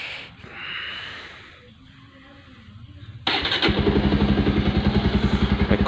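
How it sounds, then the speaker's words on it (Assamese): A motorbike engine is kicked into life: a quiet rustle and faint whir give way to an abrupt start, then a loud, steady putter idling close by without any talk. "বাইকখনক ষ্টাৰ্ট কৰি দিলোঁ"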